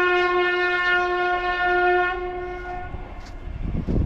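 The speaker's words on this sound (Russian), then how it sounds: "поезд едет, состав какой-то" A passing train sounds a long, steady horn chord that fades out, leaving the rumble and rattle of the cars rolling by outdoors near a river.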